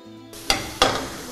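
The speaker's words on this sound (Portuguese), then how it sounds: "Vou saltear um pouco das minhas batatas" Onion, garlic and potatoes hit a hot pan and start sautéing, the sizzle jumping in suddenly, with two sharp stirring or tossing bursts over a steady, fairly close frying hiss.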